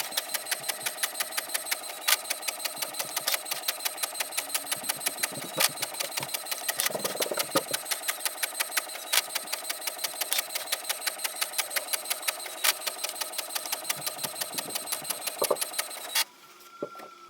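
An HP Envy Photo 7820 inkjet printer runs continuously with a fast, regular mechanical ticking and whirring, a steady repeating pattern that stops abruptly near the end.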